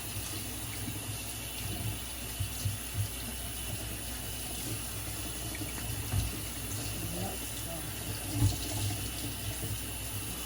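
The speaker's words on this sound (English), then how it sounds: "when I'm trying to wash it real good up under this sink" Tap water runs steadily into a kitchen sink while a beef roast is rinsed under the stream, a constant close wash with occasional splashing bumps as the meat is handled.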